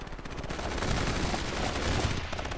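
Heavy combat gunfire in the strategy game World in Conflict, continuous overlapping automatic fire and shots forming a loud, dense barrage throughout.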